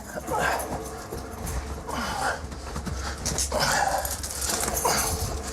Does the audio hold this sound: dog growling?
yes